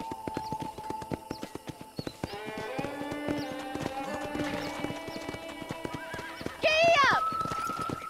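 Horses at a ranch corral in the Xbox game Knights of the Old Republic, with steady clip-clopping hooves throughout and a loud, close neigh near the end.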